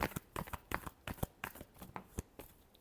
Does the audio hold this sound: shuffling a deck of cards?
yes